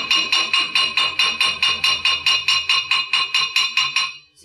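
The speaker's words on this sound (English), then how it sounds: "Again, repeating the process, chipping our slag." Rapid, even metallic taps of a chipping hammer knocking slag off a weld deposit on cast iron, about four strikes per second with a bright ringing tone, close and without talk.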